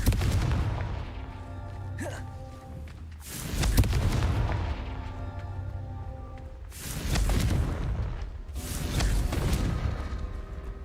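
Repeated Confringo fire-spell blasts in Hogwarts Legacy gameplay, heavy booming bursts roughly every three seconds with rumbling tails and spell whooshes, loud and close over game ambience.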